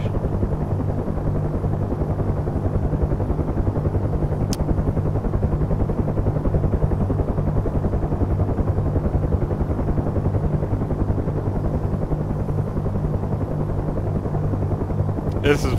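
A small helicopter flies steadily with a constant low rotor drone and engine buzz close by, the sound unbroken throughout, with a couple of brief sharp clicks.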